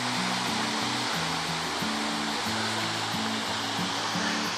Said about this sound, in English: Another beautiful waterfall on our way to